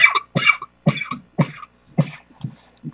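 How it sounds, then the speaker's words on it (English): A series of about seven short, sharp coughs from one person, each a brief loud burst separated by pauses, close and dry with no talk in between. "I coughed."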